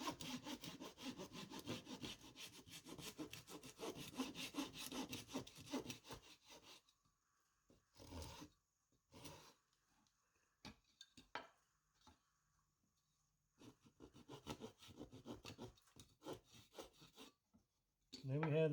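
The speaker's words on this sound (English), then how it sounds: "Hold the veneer saw parallel. There's a little glue on here, so it's going to cut a little hard." A hand veneer saw cuts through glued wood veneer for a repair, the rasping back-and-forth strokes dense and steady at first, then breaking into short bursts with pauses before resuming.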